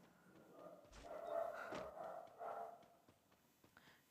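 Pet dog tied up outside a house, giving a few short barks and yips at moderate distance, fairly faint against a quiet background, with no speech.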